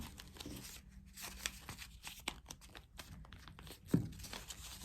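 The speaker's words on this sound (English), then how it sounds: "you're gonna open it up and you're gonna fold it in half the other way" Paper is folded and creased by hand into a cootie catcher, giving soft, irregular crinkles and rustles with a sharper crunch near the end, all quiet and close.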